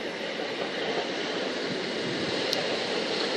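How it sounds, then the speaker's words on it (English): A Class 455 electric multiple unit passes through Honour Oak Park station on the Brighton Main Line, a steady, loud rumble of wheels and motors filling the platform, with a brief high click partway through and no voices. "It's going to be a class 455, our first 455 of the day."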